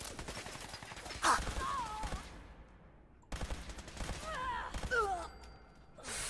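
Bursts of gunfire in the video game Fallout 4, a sharp broadband blast followed by rattling shots and whizzing tones in two loud clusters, separated by a short lull, with no talk.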